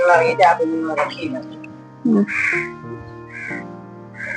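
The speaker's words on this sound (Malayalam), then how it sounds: "അല്ലെങ്കിൽ കാക്ക എടുത്തോണ്ട് പോകും" A person talks briefly, then crows caw loudly several times in separate harsh bursts, spaced about a second apart.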